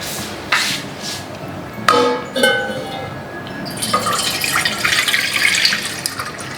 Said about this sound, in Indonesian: kita isi dulu airnya